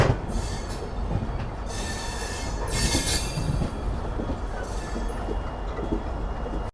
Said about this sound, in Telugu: యశ్వంత్పూర్ కొచ్చివేలి గరీబ్ రథ్ ట్రైన్ అయితే ఉంది